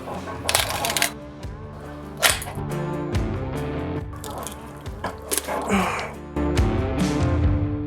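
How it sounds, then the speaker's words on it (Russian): Large pruning shears cut through the gills of a 32-kilogram beluga sturgeon, giving a series of crunching snips and wet squelches with clatter, heard close up without talk. "Поэтому будем использовать большой секатор."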